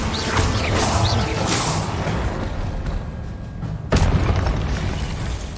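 Incendio fire spell cast in Hogwarts Legacy, a loud sustained roaring whoosh of flame with rumbling booms and a sharp burst near the end.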